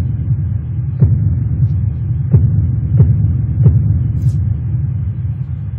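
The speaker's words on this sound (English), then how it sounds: "so the kicks sound like this" Kick drums in a beat land as four sparse, soft thumps spaced about a second apart, sitting over a constant low rumbling hum with no voices.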